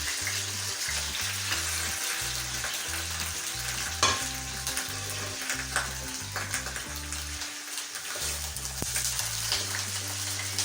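Boiled beef sizzles and fries in a pot with spices for nali nehari, a continuous crackling hiss with scattered pops and stirring scrapes, close and steady throughout with no talk.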